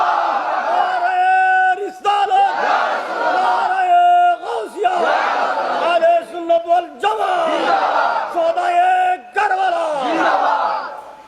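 A large crowd roars a chant in unison, loud and sustained with repeated surging calls and brief dips, voices blending into a massed shout throughout.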